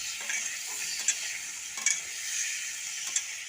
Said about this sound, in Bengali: তেল গরম হয়ে গেছে, আমি আলুগুলো দিয়ে দিচ্ছি। একটু নুন হলুদ দিয়ে আমি আলুগুলো ভেজে নেবো।